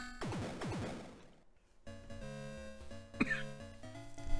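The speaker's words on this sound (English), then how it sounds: "If you hear me occasionally cough" A man with a head cold coughs once, a brief close burst during a livestream with game music playing behind.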